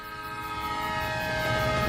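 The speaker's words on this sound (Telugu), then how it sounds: "ట్రైన్ వచ్చింది" A train rumbling closer with a sustained, steady horn blast, growing slightly louder over the short stretch.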